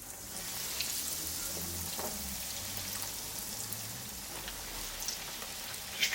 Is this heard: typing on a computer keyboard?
no